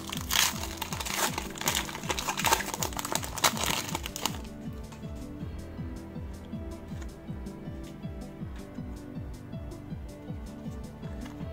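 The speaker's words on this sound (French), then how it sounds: "Les boosters, elles sont vraiment compliqués à ouvrir." Pokémon card booster packs from a Dragon Majesty Elite Trainer Box are torn open, with loud, close wrapper crinkling for about four seconds. Lighter ticking follows over a steady tonal background.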